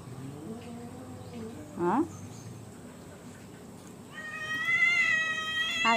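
A large tomcat at home meows, first with a short mid-clip cry and then with a longer, rising, insistent yowl toward the end, fairly close over low background hiss.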